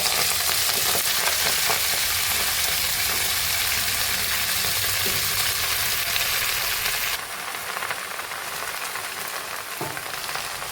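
Ghatkol greens fry in hot oil with garlic in a wok, a steady loud close sizzle with occasional stirring scrapes, the hiss dropping slightly in intensity partway through as the leaves settle.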